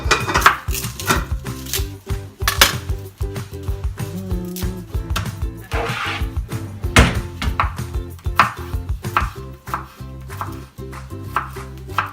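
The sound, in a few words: peeling garlic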